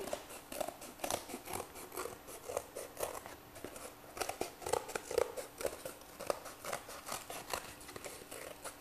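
Scissors snip around a circle in fabric or similar material. The crisp, short cuts come in a quiet, irregular run, close by and faint.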